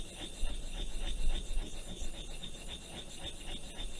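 An ink stick is ground against a stone to make yellow ink, giving a faint, close, repetitive rubbing scrape with soft rhythmic strokes and a light hiss, no voices.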